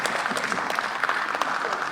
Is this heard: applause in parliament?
yes